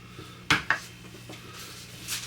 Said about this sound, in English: Let me get the lid. Let's see if I can get the lid.